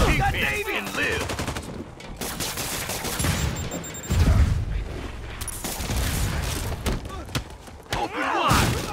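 Gunfire in the Spider-Man Remastered game, with repeated volleys and thumping impacts through a busy fight scene, while characters shout over the shooting.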